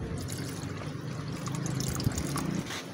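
Clean mineral water pours steadily into a cooking pot, a continuous trickling fill with a small knock near the end, close and fairly quiet, no one talking.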